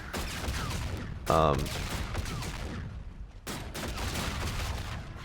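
Gunfire and explosions in an 80s-style space zombie shooter game: rapid crackling bursts of shots run nearly throughout, with a sharp louder blast early on and a brief lull before the firing resumes.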